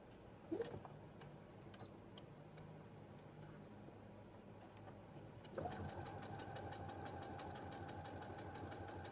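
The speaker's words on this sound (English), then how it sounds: "Just stitch till you get to your corner and pivot." Sewing machine with a universal size 12 needle and regular presser foot straight-stitching a quarter-inch fabric seam; a quiet, faint steady whir starts partway through after a few soft clicks and continues to the end.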